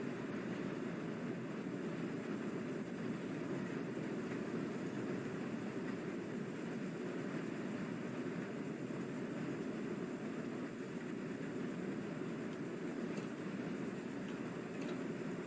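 Steam locomotive running in Train Sim World 2, a steady dense rumble of wheels and engine carrying on without a break, loud and unchanging throughout with no voices.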